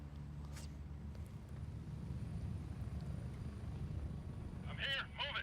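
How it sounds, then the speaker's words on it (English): Helicopter in the video game Gray Zone Warfare, a steady low rotor drone running throughout at moderate level, with a brief burst of chatter near the end. "I'm gonna kill that helicopter sound."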